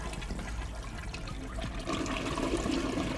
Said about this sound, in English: why are we getting this super loud, super realistic toilet sound?